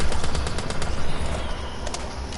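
An M14 rifle in Black Ops 3 zombies on the Ascension map fires in a fast, continuous stream of loud shots, with rapid rhythmic reports packed densely from start to finish.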